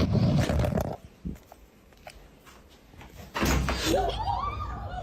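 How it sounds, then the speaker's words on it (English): A doorknob is turned and a door yanked inside a dark room, a loud burst of rattling and thudding at the start, then a quiet stretch with a small knock, followed by another loud surge of scraping noise. "someone seems to turn the doorknob and yank the door"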